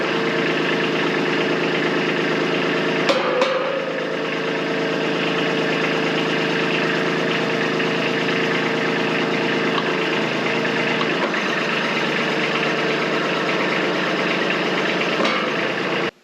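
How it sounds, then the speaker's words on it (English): A machine's engine idles steadily while its hydraulic bucket is worked through its full range of motion, giving a constant loud mechanical drone with a couple of brief knocks and clunks along the way. "I'm going to go ahead and run the bucket through its full range of motion"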